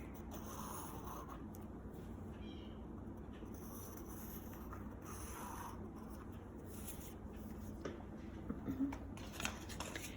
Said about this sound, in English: So I'm gonna draw this square around here.